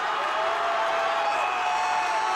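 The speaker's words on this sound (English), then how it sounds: "You can hear the crowd willing on Luke Stoltman as he solidly approaches the 50-second mark" A large strongman event crowd in the UK cheers and roars steadily for Luke Stoltman during a hold event, a dense, continuous wash of voices heard from a distance with no individual words.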